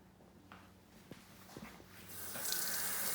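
A Norwex dishcloth is rinsed under a kitchen sink tap: soft handling noises give way to the faucet opening into a steady, fairly close hiss of running water.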